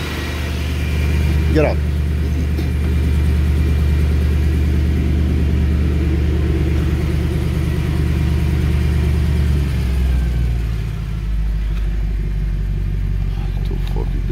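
A 2013 Mercedes C63 engine with 171k km runs after a cold start, a loud steady idle rumble with a slight dip near the end, while a person speaks briefly over it.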